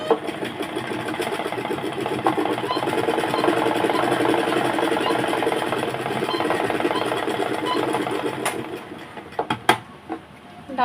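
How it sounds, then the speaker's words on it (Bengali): A sewing machine runs continuously while double-stitching the waistband of a baby dress, a steady close whirring hum that slows and stops into a few clunks and clicks near the end. "ডাবল সেলাই করে নিচ্ছি"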